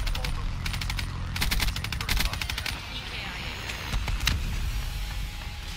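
Rapid automatic gunfire in the video game Black Ops 3 rattles in loud repeated bursts, dense and close, with a voice talking over parts of it.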